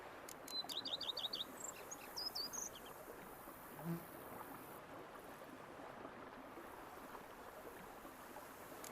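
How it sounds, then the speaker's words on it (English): Birds chirp in the quiet countryside of the game Witcher 3: Blood and Wine, with a few short, high trills early on that then fade, leaving a soft steady insect-like hum, faint and distant, with no voices. "Bees buzzing, birds chirping."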